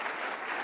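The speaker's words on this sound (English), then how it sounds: "So one more round of applause for them." Brief burst of audience applause for guests at an evening conversation event, a dense even wash of clapping heard close and fairly loud, with no speech.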